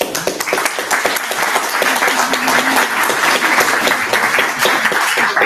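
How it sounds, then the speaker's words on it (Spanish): A seated audience at a talk on the philosophy of Enrique Dussel claps in dense, sustained applause that fills the room, loud and even throughout. "Un aplauso para el doctor."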